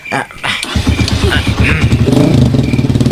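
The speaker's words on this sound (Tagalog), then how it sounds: "Iruwar mo man ngamin dayta motorsiklo." Motorcycle engine idling and revving nearby in a rhythmic, chugging throb that grows steadier and louder, with voices talking over it.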